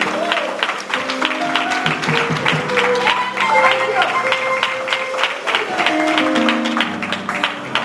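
Church congregation claps for Brother Robert as he comes up to bring the word, a steady round of hand claps that runs the whole stretch, with voices and a tonal hum mixed underneath.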